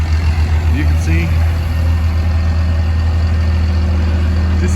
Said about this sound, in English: This is the tipper for tipping, trailer load, big tractor trailer loads.